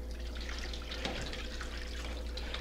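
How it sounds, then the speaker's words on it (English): Hot water is poured into a pan to braise a mesquite-smoked brisket, a steady trickling and splashing stream that runs close and continuous for the whole moment with no talk over it. "First thing I'm going to do is put some water in here,"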